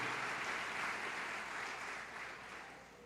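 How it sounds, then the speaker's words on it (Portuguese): Church congregation applauding during a Sunday evening service, a soft, distant wash of clapping that fades slightly toward the end, with no voices on top. "Então, querido, pode aplaudir a Ele, aplauda Ele com vontade"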